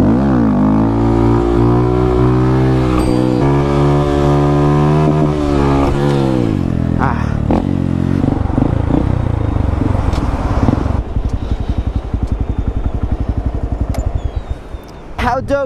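A modified Honda Grom motorcycle revs hard during wheelies, its engine note climbing and falling in loud close sweeps before settling into a rapid high-rev buzz.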